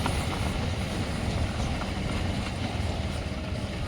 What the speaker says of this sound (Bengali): ওই ট্রেন স্টেশনে দাঁড়িয়ে যাচ্ছে